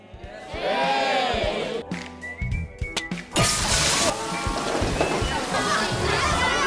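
A fire sprinkler in a school classroom drenches students in a film scene, a loud broad hiss of spraying water rising abruptly midway and continuing, mixed with shouting, crowd noise and speech from the scene.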